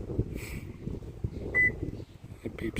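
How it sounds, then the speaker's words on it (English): A Star-X remote start kit fitted to a 2017 Toyota Tacoma gives one short, clear electronic beep amid quiet background noise and faint handling sounds. "It beeps on its own."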